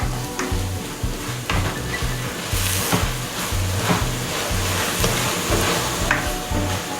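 Browning meat for TexMex enchiladas sizzles steadily in a pan, with a close, continuous crackle and a repeating low stirring rhythm underneath.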